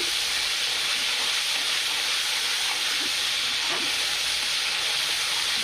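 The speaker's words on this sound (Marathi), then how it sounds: "अद्रक, कोथिंबीर, लसूण, टमाटे आणि कांदे छानपैकी असं टाकून घेतलेलं आहे आणि याला फ्राय होऊ द्यायचं आहे" A ground paste of ginger, garlic, coriander, tomato and onion frying in a pan for egg curry, a steady, close, bright hissing sizzle with faint bubbling, unbroken throughout.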